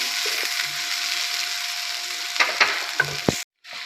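Ginger garlic paste frying in a pan as spices go in for mutton kaleji masala, a steady bright sizzle with a few scraping stirs and clicks near the end before it cuts off.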